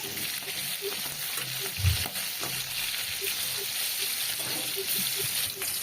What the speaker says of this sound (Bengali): এইদিকে আমার আলুগুলো বেশ ভাজা হয়ে এসছে নামিয়ে নেবো